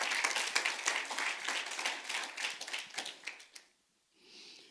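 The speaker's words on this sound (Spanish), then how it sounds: "denle un aplauso al Rey de Gloria" A church congregation applauds the King of Glory at a Spanish-language service in Baltimore, dense clapping that swells, thins out and stops, followed by a brief soft sound.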